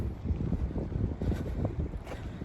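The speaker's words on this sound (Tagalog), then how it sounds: "Mahangin. Pasensya na kayo. Mahangin din eh." Strong wind buffets the microphone at the lakeshore of Ghost Lake near Cochrane, a steady loud rumbling gust noise with swelling surges and no voices.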